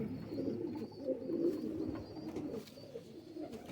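Shekhon wale or Faqeer Gull cross pigeons coo softly and continuously nearby, low murmuring calls overlapping in a quiet loft with a faint high tone in the background.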